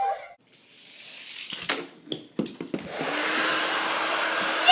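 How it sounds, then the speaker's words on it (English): A hair dryer starts up after a few short knocks and clatters, then blows in a steady, loud whooshing hum that holds to the end. "It's the dryer that kills me."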